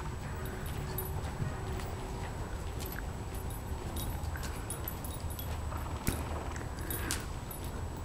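Hooves of a small, naturally gaited horse being ridden, a steady run of soft clip-clop footfalls over continuous outdoor background, with occasional jingling of tack and no speech.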